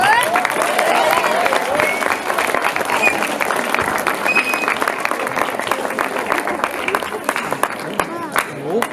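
Audience applause at a school event, a dense wash of clapping with some cheering mixed in, loud and continuous, with voices audible over it.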